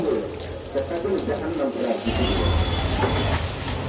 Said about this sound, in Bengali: এবারে পেঁয়াজ আর মরিচটাকে সফট হওয়া পর্যন্ত ভেজে নিতে হবে।